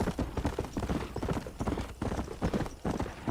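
Galloping horse hooves in the Red Dead Redemption video game pound in a fast, steady clip-clop rhythm, close and loud, running without pause.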